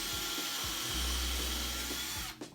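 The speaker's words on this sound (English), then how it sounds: "So what I'm doing is just drilling through," A power drill whines steadily at close range as it bores through a 2x4 into wooden floor boards. The tone holds for about two seconds, then cuts off abruptly near the end.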